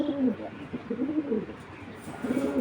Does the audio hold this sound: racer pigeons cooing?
yes